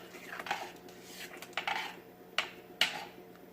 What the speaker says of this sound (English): Stir that all in.